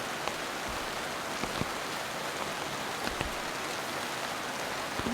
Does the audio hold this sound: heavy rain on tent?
yes